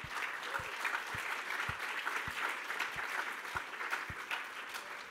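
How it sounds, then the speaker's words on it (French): Audience applause at a conference session of a francophone network of age-friendly cities, a dense, steady wash of many hands clapping, moderately close and continuous throughout, with occasional louder individual claps standing out. "Et un applaudissement spécial, s'il vous plaît, pour Floria Finot"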